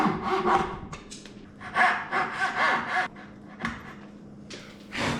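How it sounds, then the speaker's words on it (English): A coping saw cuts waste wood out of a joint in a series of rasping strokes with short pauses between them, close and clear, with no voices. "After cutting out most of the waste with the coping saw"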